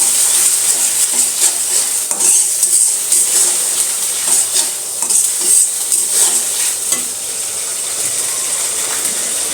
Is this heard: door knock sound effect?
no